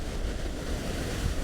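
Waves breaking and a strong headwind on the rocky sea shore at Cape Banks, Sydney, during rock fishing in bad weather, a loud continuous roar of surf and wind buffeting the microphone.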